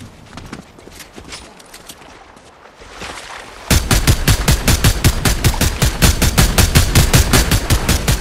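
Rapid automatic gunfire from a weapon in the Cyberpunk video game: quieter scattered shots at first, then a loud, close, steady burst of evenly spaced rounds for several seconds.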